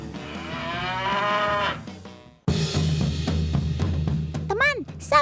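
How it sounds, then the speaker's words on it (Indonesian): A giant Simmental cow at a cattle farm in Bekasi lets out a long, loud moo, followed after a brief pause by further lowing and barnyard noise at close range. "Sapi simental dari kandang sumber ternak farm yang ada di Bekasi."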